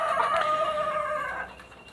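Chickens in a coop cluck and crow, one loud rooster-like call near the start trailing off over about two seconds, with no talk.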